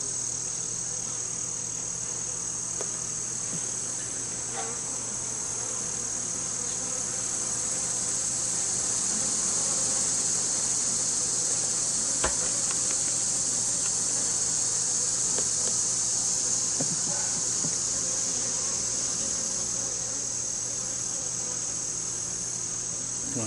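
Honeybees buzzing outdoors at an open hive during an inspection, a steady dense high hum lasting throughout, with faint clicks and handling sounds over it.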